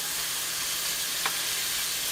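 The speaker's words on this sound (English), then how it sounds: "Once your meat has started to brown up pretty good," Ground meat browns over high heat in a pan, giving a steady, even sizzle that holds throughout with one brief spitting pop partway through. No one speaks.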